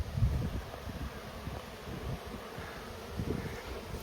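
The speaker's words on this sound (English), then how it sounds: "All the bees on all the hives, they're all coming back in." Field honey bees return to their hives before rain in a dense, continuous buzzing swarm, with soft wind and rustling mixed into the low hum throughout.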